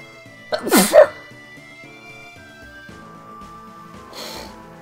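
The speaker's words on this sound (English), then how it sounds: "Another sneezing fit." A single close, loud sneeze bursts out, followed moments later by a second softer sneeze, over quiet video game music playing in the background.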